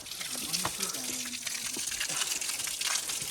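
Water gushes steadily from a traditional stone spout near Kathmandu, a continuous close splashing flow, with someone speaking briefly over it.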